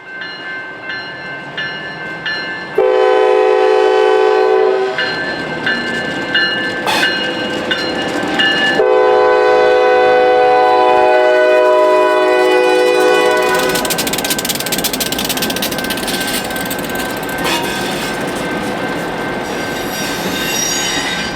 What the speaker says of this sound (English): the train departs CHTT rails and hops onto the Union Pacific Villa Grove subdivision